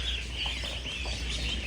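Ducks calling on a farm where they drink water beside younger birds, after heavy rain left a flock of about four hundred outdoors; a few faint, brief calls sit over a steady background hiss.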